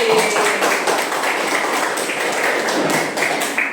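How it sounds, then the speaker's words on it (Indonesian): Audience applause for a participant named Haji in a Bandung classroom session, a steady dense patter of clapping hands lasting throughout, fairly close and alone without talk. "Beri tepuk tangan buat Haji."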